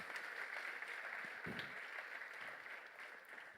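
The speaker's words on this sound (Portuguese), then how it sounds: "Dá uma salva de palmas aí" Applause from a church youth service congregation, a soft, steady wash of many hands clapping, faint and distant throughout.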